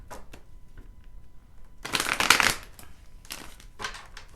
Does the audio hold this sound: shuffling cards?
yes